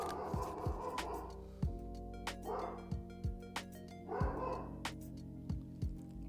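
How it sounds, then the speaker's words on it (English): A pet dog indoors barks loudly and repeatedly in a fast, uneven string of sharp woofs close to the listener, with no talking over it. "We're just gonna unfold this while the barking continues."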